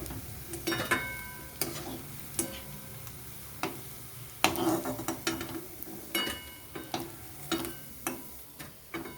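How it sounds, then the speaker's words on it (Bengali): Vegetable manchurian balls fry in a wok of oil, a soft continuous sizzle broken by irregular clicks and taps, probably from a utensil against the wok, quiet and close, with no speech. "এইভাবে আর যে বাকিটা আছে সেগুলো আমি এইভাবে পরপর ভেজে নেব"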